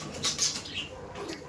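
Kaldom pigeons loose in an open loft give soft, close coos, with a few brief higher calls and light rustling among them.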